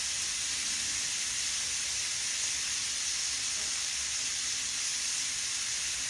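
Hamburger steak frying in a skillet, a steady even sizzle with a bright hiss that holds level throughout, with no talk over it.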